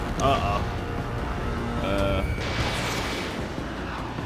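Missiles launching in a flight combat game, a dense roar of rocket whooshes and booming engine noise layered with game effects, loud and continuous throughout.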